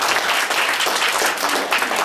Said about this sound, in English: Can we have a round of applause from Lisa?